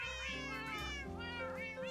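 Cats meowing inside a video game server build, several loud, close, drawn-out tonal meows that overlap and follow one another with no gaps, with no talking.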